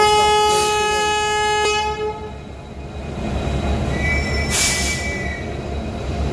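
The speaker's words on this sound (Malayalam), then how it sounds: "അരമുക്കാൽ മണിക്കൂറുകൊണ്ട് നമ്മളെ ട്രെയിൻ വന്നു" A piercing metallic squeal of train wheels on the rails at the start, fading into a rumbling rolling train with short bursts of hissing noise.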